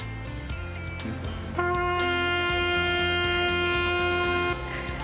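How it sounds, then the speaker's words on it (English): Busy outdoor city-centre ambience in Kraków, near Jagiellonian University, with a steady murmur, footsteps and scattered clatter, while a sustained musical tone, like a street instrument, rings for a few seconds. "Do you hear that? This is the sound of the city center."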